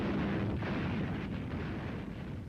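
Anti-aircraft guns firing on the coast, a dense continuous roar of heavy blasts and rumbling booms with no clear gaps, loud and sustained throughout.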